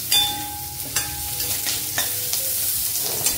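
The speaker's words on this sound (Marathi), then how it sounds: "छान असं जरा परतून घ्यायचा कांदा जरा" Onions stir-fry in a pan with a continuous close sizzle, punctuated by regular scraping strokes of a spoon about once a second, with no talking.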